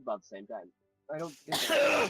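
A person speaks briefly, then after a short pause a single sharp, noisy sneeze bursts out close to the microphone.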